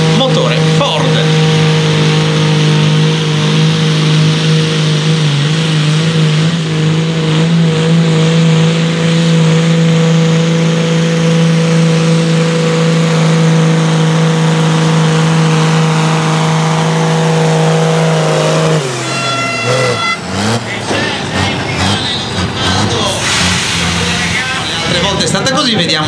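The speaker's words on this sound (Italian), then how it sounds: "Salire di giri piano piano, arriva la pressione, la turbina prende e respira nel motore Ford." A powerful turbocharged Ford diesel engine on a pulling tractor at a tractor pulling competition roars steadily at high revs for a long stretch, then drops off and sputters with a rising turbo whistle near the end.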